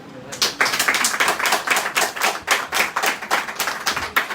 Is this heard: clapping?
yes